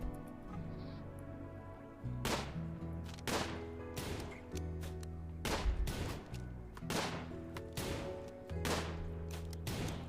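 Repeated sharp gunshots from the video game RimWorld, roughly every second or so, fairly quiet over a steady droning background.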